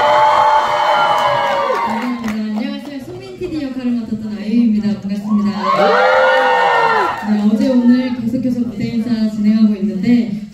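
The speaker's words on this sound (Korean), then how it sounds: "큰 박수하면서 부탁드리겠습니다." An audience cheers, whoops and shouts with high, excited voices at a cinema stage greeting for the film 'Dream', with two loud swells of screaming over continuous crowd noise.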